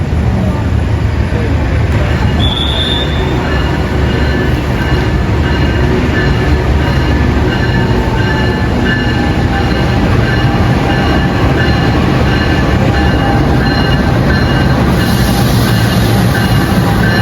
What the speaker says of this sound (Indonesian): ini dia kereta api Mutiara Selatan sudah masuk